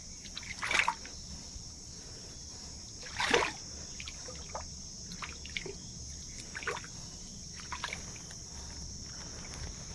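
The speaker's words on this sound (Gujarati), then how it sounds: "કૂવામાંથી પાણી આવે" Water trickling and splashing from a pipe fed by a well into a muddy cattle trough outdoors, with a steady faint flow and a few louder splashes.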